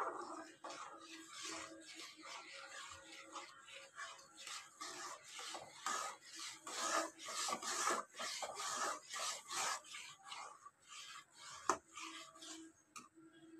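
Milk and ghee being stirred together in a pot for a sago rasgulla recipe, a continuous close scraping and rubbing of the spoon against the pot with a rhythmic back-and-forth, faint low voice underneath.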